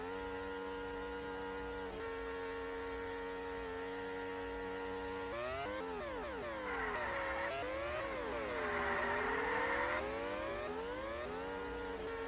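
High-pitched F1 car engines in a racing video game on the Netherlands circuit whine steadily, then several cars pass with sweeping, overlapping pitch rises and falls as revs climb and drop through gear changes, loud and continuous.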